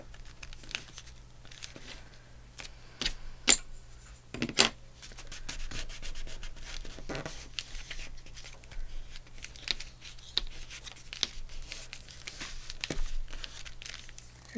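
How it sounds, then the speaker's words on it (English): A paper tag folded over by hand for a flip-out journal tag, giving soft crinkling, rubbing and sliding paper handling with a few sharper crisp creases, close and fairly quiet, with no talk. "Fold it over."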